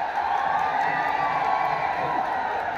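A large crowd at an outdoor political rally claps and cheers continuously, a loud, dense wash of applause, whistles and whoops sustained without a break.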